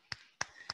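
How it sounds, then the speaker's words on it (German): Three separate sharp hand claps, evenly spaced and close, ringing briefly in a quiet room as a welcome for Hermann Scherer at a BNI meeting. "Hermann, ich klatsche für dich."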